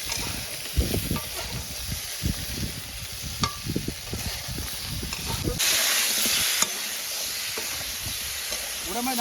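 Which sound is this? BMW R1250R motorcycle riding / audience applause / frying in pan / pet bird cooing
frying in pan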